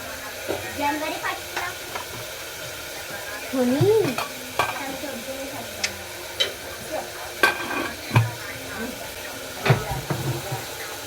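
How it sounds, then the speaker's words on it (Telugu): Onions frying in a pan with a little sugar for a brinjal mutton curry: soft sizzle beneath repeated scraping stir strokes and clinks of a spoon against the pan, up close. "కొద్దిగా పంచదార అనేది వేసుకుంటే ఉల్లిపాయలు అనేవి తొందరగా వేగుతాయండి"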